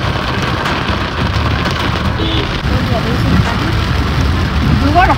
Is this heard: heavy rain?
yes